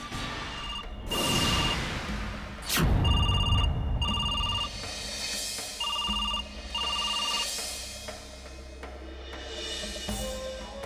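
A telephone rings in repeated short electronic bursts, several rings spaced apart, with a couple of sharp whooshing noises early on.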